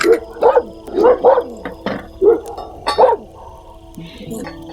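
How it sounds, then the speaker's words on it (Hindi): Dogs bark repeatedly toward the jungle at a dark-night mountain campsite, a rapid run of close barks in uneven bursts, fading into quieter whimpering sounds at the end. "अचानक से कुत्तों ने भौंकना स्टार्ट कर दिया और वो लगातार जंगल की तरफ भौंकने लगे।"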